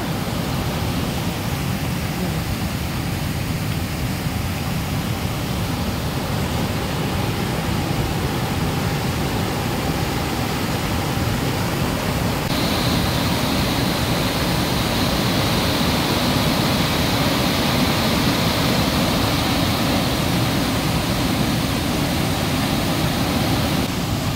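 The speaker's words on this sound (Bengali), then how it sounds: "ওই উপর থেকে জল আসছে।" Bhatinda Falls, water pouring from above, heard as a constant loud broadband rush that holds steady throughout and grows slightly brighter halfway, with no talk.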